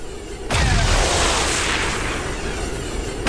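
A loud boom of gunfire in the video game XCOM erupts suddenly and rolls on with a dense rumbling tail, no voices over it.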